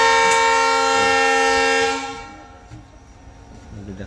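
A train at Mupa railway station, set among hills, sounds a long steady horn with rich tones for about two seconds before it cuts off, leaving a low rumble and faint rail noise.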